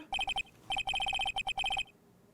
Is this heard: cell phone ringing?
yes